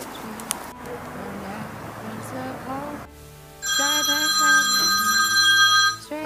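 A telephone rings with a steady electronic trill, clear and fairly loud, starting a few seconds in after quieter ambient sound with faint voices, in a film scene of a call made to a mother.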